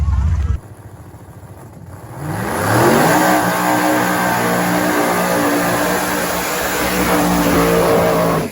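A Chevy Nova drag race car launches off the line, its engine jumping from a low idle into a loud, sustained roar that holds steady and close for several seconds.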